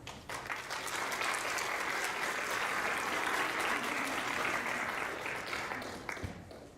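Sustained applause from a large audience in a community conference hall in Edmonton, rising quickly and holding steady for several seconds before tapering off near the end.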